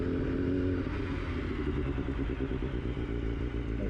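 A BMW HP4 Race motorcycle engine revs on a race track, a loud, close, continuous mechanical roar with a rattling texture and steady pitch.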